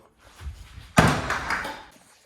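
A single heavy car door bang on a classic Subaru Impreza, sharp and close, with a brief rumble trailing off afterward; some faint shuffling noise comes just before it.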